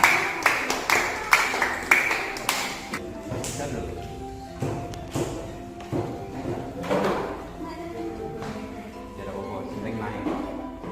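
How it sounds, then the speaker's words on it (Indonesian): Classroom applause for the red group after a water thermometer experiment, a short run of sharp claps at the start before a teacher's voice takes over, with scattered knocks and handling noises under the talk. "Tepuk tangan untuk kelompok merah."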